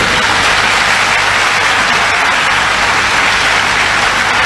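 Dense, continuous audience applause, loud and steady like a crowd clapping together in a hall, with no voices standing out.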